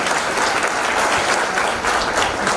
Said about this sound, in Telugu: ఇప్పుడు మాత్రం గట్టిగా చప్పట్లు కొట్టాలని నేను కోరుతా ఉన్నాను.